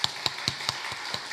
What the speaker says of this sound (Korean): 격려의 박수 해주시죠.